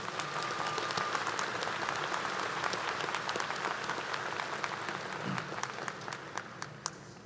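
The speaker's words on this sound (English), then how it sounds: "Ladies and gentlemen, please recognize with your applause these representatives of the university's governing board." Audience at a Virginia Tech graduate school commencement ceremony applauds the university's governing board, a steady roar of many hands clapping from a large hall, fairly distant, with a few sharper individual claps standing out.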